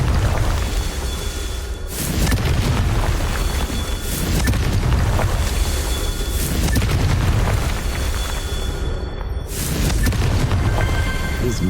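Fiery spell blasts from the Hogwarts Legacy game on Switch: repeated deep booming bursts, roughly every two to three seconds, over a continuous rumbling game ambience, loud and close with no talk.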